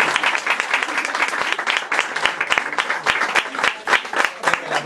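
Audience applause at a book presentation: a steady, dense crowd clapping that stays fairly loud and even throughout, with no voices over it.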